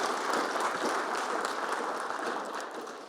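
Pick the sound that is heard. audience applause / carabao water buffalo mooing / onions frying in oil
audience applause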